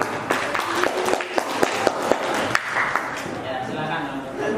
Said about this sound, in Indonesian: berikan tepuk tangan dulu untuk kelompok C.